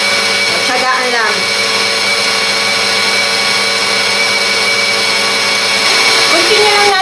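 An electric hand mixer whirs steadily and loudly, beating egg whites with sugar toward shiny stiff peaks, a continuous motor drone that rises slightly near the end, with faint talk underneath.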